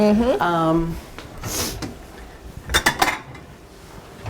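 Two ladles clink and scrape against a pot and bowls as soup is served in a kitchen, with short metallic knocks and ceramic taps over a quiet room, with people talking at the start.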